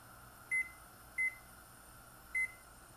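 Three short electronic beeps from a kitchen timer being set while nettle soup boils on the stove, evenly spaced at under a second apart, over a low steady kitchen hum.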